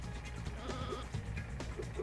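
A sheep in the Looney Tunes Sheep Raider video game bleats a few times in short, nasal calls over a busy, steady game background.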